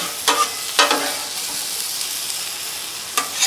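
Steady sizzle of onions frying on a Blackstone griddle for smash burgers, with a few brief scraping spatula strokes over the continuous hiss.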